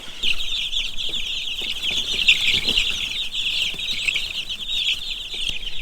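Chicks about two and a half to three weeks old peep and cluck continuously in a busy, high-pitched chorus, close and fairly loud, with faint rustling beneath.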